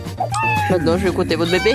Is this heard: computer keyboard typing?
no